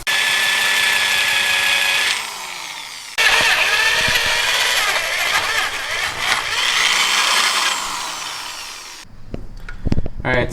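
A power drill bores into a car oil pan on a Miata turbo build, loud and sustained with pitch shifts as the bit bites, pausing briefly before running again, then ending in a few close metallic clicks and taps.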